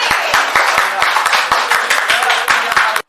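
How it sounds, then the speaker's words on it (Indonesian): A crowd applauding steadily with dense, continuous clapping for about three seconds, then cutting off abruptly. "Mari kita sambut tepuk tangan kami."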